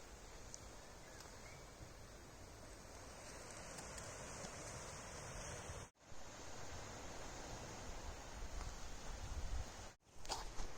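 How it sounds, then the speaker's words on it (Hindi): A small waterfall on a trek through unexplored Goa makes a steady, broadband rush of falling water, continuous and fairly close, with two brief dropouts. "बहुत एक छोटा सा झरना है"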